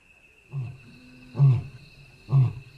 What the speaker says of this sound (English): Another roar comes, from much closer this time.